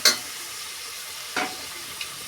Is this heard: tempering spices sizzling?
yes